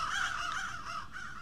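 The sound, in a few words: birds cawing in the Roblox game Doors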